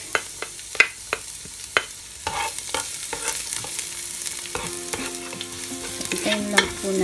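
Chopped garlic frying in hot oil in a pan, a steady soft sizzle with a spatula scraping and tapping against the metal at irregular intervals, close and without talk.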